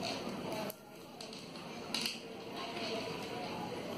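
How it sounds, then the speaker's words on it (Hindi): Crystal beads clicking softly as they are threaded while beading a pearl toran, a few faint clinks over a low background hiss. "ऐसे मैं क्रिस्टल मोती डालूंगी ऐसे"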